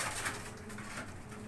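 Pet pigeons of a high-flying breed: soft, low cooing close by, brief and quiet against a faint background hum.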